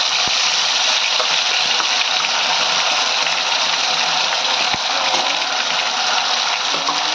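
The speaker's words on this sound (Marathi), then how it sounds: "तेल गरम झालं आहे, त्यात जो आपण वाटलेला मसाला होता तो टाकायचा आहे" Ground masala paste hits hot oil and sizzles in a loud, steady hiss that holds without pause, with only a couple of faint clicks beneath it.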